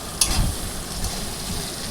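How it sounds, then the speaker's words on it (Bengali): Onions fry in a wok for a Bengali dim kosha, with a steady, moderately loud sizzle and a few stirring scrapes, and no talking. "পেঁয়াজগুলোকে ভালো করে ভেজে নিয়ে যতক্ষণ না লাল হবে ততক্ষণ আমি পেঁয়াজগুলো ভাজবো"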